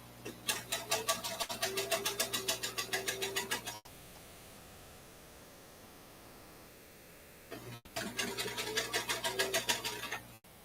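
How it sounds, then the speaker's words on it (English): A sewing machine stitches a seam on a hand-knitted sweater in fast, steady mechanical bursts, stopping for a few seconds in the middle before running again, close and alone without talk. "So let's sew up the seam."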